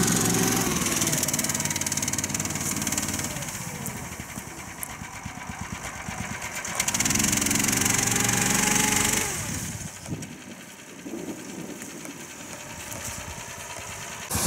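An Uragan Taiga 2000 snowmobile drives with its engine droning loudly, surging twice as the throttle opens and then dropping back to a lower rumble, carrying steadily and close throughout with no voices.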